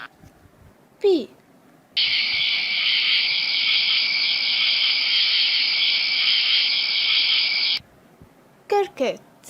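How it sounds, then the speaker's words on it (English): Insect-like cricket chirping as a steady, loud, high-pitched trill lasting about six seconds, with brief voiced syllables just before and after it. "Cricket."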